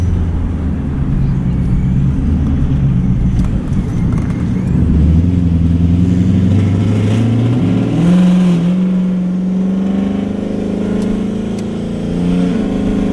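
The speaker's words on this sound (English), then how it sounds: "I regrounded it and the car started right up" Supercharged Ford Mustang with an ESS G3x kit running after starting, loud close engine idling and then revving up and down with rising and falling pitch, no talking.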